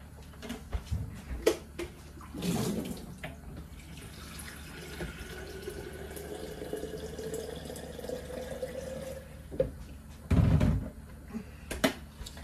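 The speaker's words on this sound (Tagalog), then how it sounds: "The important next is put water." Water is poured into a pot of mung beans being cooked with squid. Two short, splashy gushes stand out near the start and near the end, with quieter trickling and small kitchen knocks between them.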